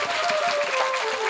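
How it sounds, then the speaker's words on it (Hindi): Audience applause at a Hindu religious discourse on the Shrimad Bhagavat Katha, a steady wash of many hands clapping with a faint sustained tone running beneath it. "एक बार अपने अपने लिए जोरदार तालियों से सेवा करो।"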